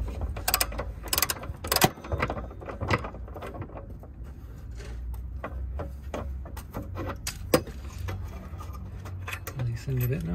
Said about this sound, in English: grab your torque wrench. This is a 19mm socket.